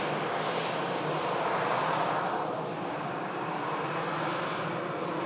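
Aircraft engine roaring steadily at Manchester Airport, a loud, sustained broadband drone that swells slightly and holds throughout without any talk.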